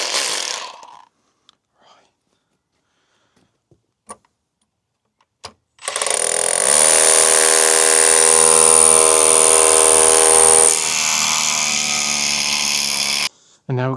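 A power drill fitted with a 12mm bit bores holes for M12 anchor bolts during a workshop frame build, a loud steady whine running about eight seconds after a few faint taps and a brief start.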